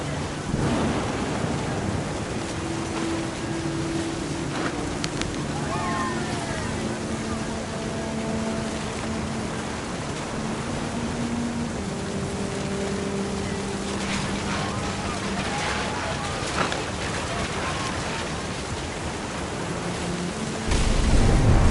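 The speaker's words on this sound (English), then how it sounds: "The thunder sounded much too close and full of angry power." Rain falls continuously with low rumbling thunder in the video game What Remains of Edith Finch, a dense steady wash with deeper rolling swells and a louder burst near the end.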